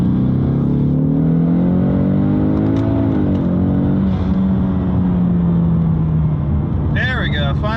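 A car engine hums and revs under steady road noise, its pitch climbing gently as it accelerates, then falling back.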